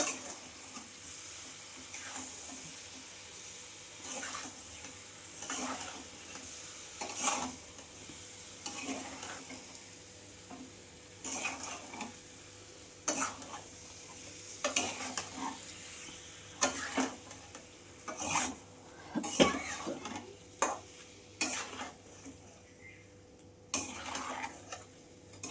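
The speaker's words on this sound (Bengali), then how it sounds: "গুড়টা গলে আসবে, দিয়ে আচারটা বেশ মাখো মাখো হবে" Pickle cooks with melting jaggery in a pan, a spoon stirring in repeated scraping strokes over a soft sizzle, close and fairly quiet, with no talking.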